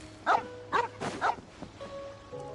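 A dog in the video game Genshin Impact barks three quick, close yaps, followed by softer game ambience and faint tones.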